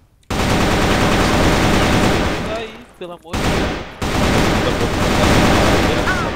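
Sustained automatic gunfire rattles loudly through a first-person video game match, nearly continuous bursts with a brief gap midway, while a player exclaims over it.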